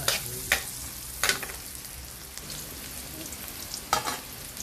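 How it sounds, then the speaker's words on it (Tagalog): Onion and garlic sizzle steadily in a hot pan, with several sharp scraping stirs of a utensil breaking through the frying hiss. "Halo-halo natin sa pumula ang sibuyas, bawang"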